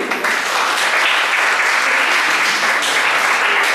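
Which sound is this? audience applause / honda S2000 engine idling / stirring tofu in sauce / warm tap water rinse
audience applause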